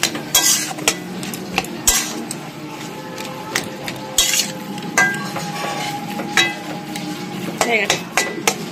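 Taro leaves (kochu shak) are stir-fried with grated coconut in a pan, a metal spatula clinking and scraping in irregular, close strokes over a light sizzle.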